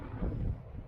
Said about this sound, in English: It's real windy out here though.